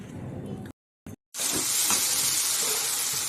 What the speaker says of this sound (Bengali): পেঁয়াজ দিয়ে এক দুটো কাঁচা লঙ্কা দিয়েছে একটুখানি কালো জিরে ফোড়ন দিয়ে এই লতিটাকে ভাজা করছি